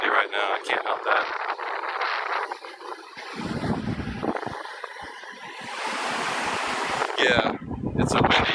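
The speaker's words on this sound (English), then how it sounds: "Yeah, it's windy now." Strong wind buffets the microphone on a beach at Hoi An, roaring gusts with surf beneath, and a person talks through it.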